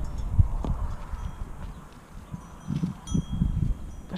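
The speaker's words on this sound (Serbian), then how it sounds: "Mali jedan magarac." Small donkey hooves clip-clop faintly on the ground outdoors, a few scattered steps at first, then a quicker cluster of hoofbeats near the end, with light wind and rustling behind.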